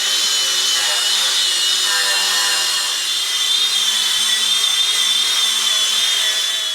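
Power tool grinding rust and scale off the frame of a 1976 Ford crew cab truck, a loud, steady, high-pitched abrasive whine that runs without a break and with no talking.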